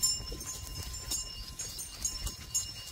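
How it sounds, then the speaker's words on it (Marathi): Buffaloes walk along a rural path toward pasture near a pond, their hooves making soft, irregular clopping steps close by. "आपण चाललो म्हशी घेऊन तळ्याकडच्या रानाकडे तिकडे चारायला।"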